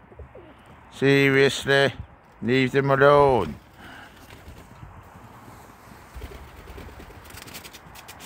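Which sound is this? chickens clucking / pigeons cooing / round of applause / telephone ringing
pigeons cooing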